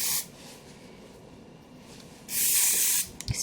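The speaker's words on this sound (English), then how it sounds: "now I'm going to hairspray everywhere" Hairspray hisses from a can in two bursts, a short one at the start and a longer, louder one near the end, separated by quiet.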